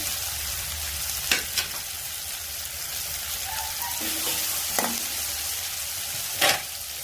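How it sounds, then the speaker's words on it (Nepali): Tomatoes frying in a pan make a continuous crackling sizzle, with a few sharp scrapes and knocks as they are stirred, close and with no voices. "फेरि फ्राई गर्छु अनि अब दिन्छु यसलाई टमाटर। टमाटरलाई एकछिन चलाएर"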